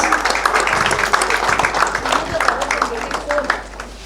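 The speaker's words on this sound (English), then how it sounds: "Give a big round of applause for Chaitanya School, Bhagya Lakshmi Garu." Audience clapping at an award function for a human rights organisation's 8th foundation day, a steady, dense wash of applause that keeps going through the whole stretch before easing slightly at the end.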